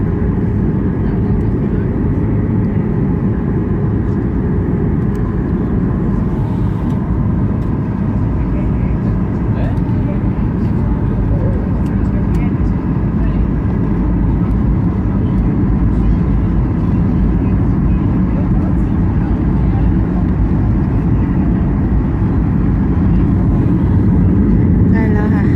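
Steady, loud airplane cabin roar from the engines and airflow on a flight descending toward Venice, Italy, a continuous low drone that fills the whole stretch, with faint voices murmuring beneath it.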